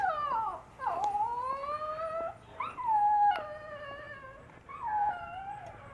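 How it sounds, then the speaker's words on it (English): A dog howls in long, wavering drawn-out notes, several howls in a row with brief breaks between them, fairly close and clear. "That's a dog."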